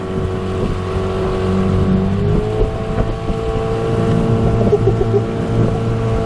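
A Seatan 15 hp outboard engine drives an 11-foot flat-bottomed aluminium boat during its run-in period. The motor drones steadily and loudly at part throttle, with a slight pitch shift and wind buffeting on the microphone.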